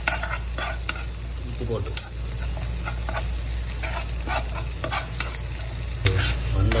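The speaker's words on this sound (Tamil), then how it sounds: "தக்காளியை போட்டு அப்படியே ஒரு கிண்டணும்." Tomatoes stirred and frying in a pan with green chillies for an Arabian-style egg curry, a steady close sizzle with irregular scraping stirs throughout; a voice speaks briefly.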